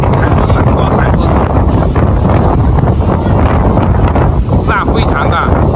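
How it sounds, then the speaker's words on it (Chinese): Strong typhoon wind buffets the microphone at Beimaoshan seaside, a former fishing harbor and typhoon shelter, a loud continuous roar with crashing waves beneath and faint voices partly masked. "这边今天台风了，刮台风"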